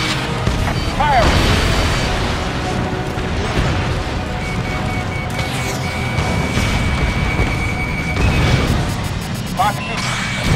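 Missile launches and explosions from an F-14 Tomcat in the Ace Combat video game, dense roaring blasts and rumbling booms over continuous jet engine noise, loud throughout, with a radio voice talking over it.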